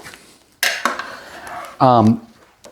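A spoon stirs chicken and pearl onions in a crock-pot, making a couple of close metal clinks and scrapes against the pot, followed by a brief voice.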